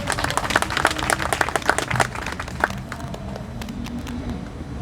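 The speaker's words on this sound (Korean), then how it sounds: "이원영 선생님께 다시 한번 큰 박수 부탁드리겠습니다." Applause from the audience at a gathering of democratic groups, lively clapping for the first few seconds that thins into scattered claps over background hum and room murmur.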